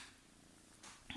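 A cat purrs softly and close by in a quiet room, a faint steady rumble with a brief brighter noise near the end.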